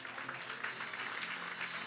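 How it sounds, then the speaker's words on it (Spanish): A church congregation claps during a worship service, producing a soft, steady wash of applause that stays fairly distant and even for the whole moment. "Dale un aplauso al Señor"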